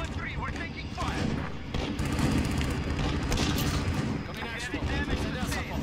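Constant gunfire in Modern Warfare on the Shoot House map, likely including an MP5, thick and overlapping over about six seconds, with a voice talking over the shooting.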